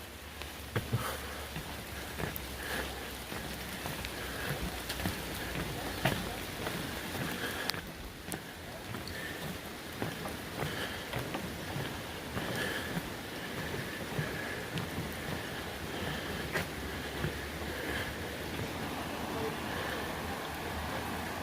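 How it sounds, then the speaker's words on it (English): A swollen, high river rushes under a suspension bridge on the Appalachian Trail in Virginia, a steady broad roar of water that stays constant throughout, close and dense, with faint scattered knocks. "You can tell the river is really swollen."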